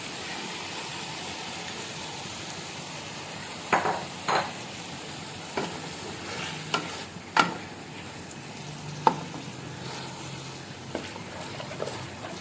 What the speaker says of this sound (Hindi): अब इसकी भुनाई करनी है, साथ ही मैं इसमें शामिल कर रही हूँ फलियाँ।